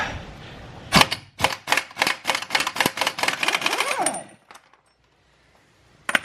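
An impact gun takes a nut off the suspension of a 2010 Peugeot 207 HDI during a spring replacement. It fires a loud, rapid burst of hammering rattles for about three seconds, stops abruptly, and gives one short blip near the end.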